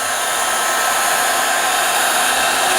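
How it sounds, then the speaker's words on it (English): A Ryobi One Plus 18-volt cordless heat gun blows a steady, loud whooshing airflow, drying out rotted wood on a bird hide, with no pauses and no talk. "Now I did bring my Ryobi 1 Plus 18 volt heat gun down"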